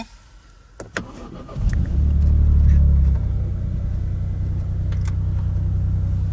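A Ford Fiesta ST with a 1.5 EcoBoost 200 hp engine and manual gearbox, cruising at 140 km/h around 3,500 rpm. After a couple of faint clicks, a loud, steady low engine and road drone sets in and holds evenly.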